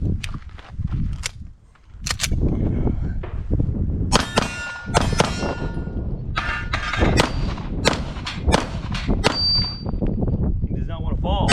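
Pistol shots from a Walther PPQ polymer handgun fitted with a Lok Light weapon light at a shooting range: a string of sharp, loud cracks in irregular bursts with ringing metallic clangs between them, plus a brief quieter pause.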